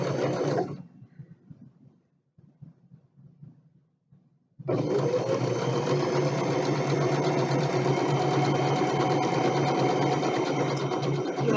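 A sewing machine stitches a quarter-inch seam down a quilt border, starting after a few seconds of near silence and then running steadily and close up as a continuous whirring hum until the end.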